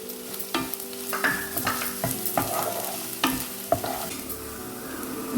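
Sliced onion and three green chilies fry in a pan for a prawn roast, a steady sizzle broken by several sharp scrapes and taps of a spoon stirring, close up with no talk.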